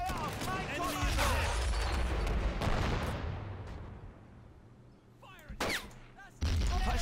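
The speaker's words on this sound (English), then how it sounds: "those mortars are just hitting accurate shots all day" Mortar barrage in the WWII strategy game Men of War: Assault Squad 2, heavy booming blasts rolling through the first few seconds, then fading before a couple of sharper explosive bursts near the end, with a voice talking underneath.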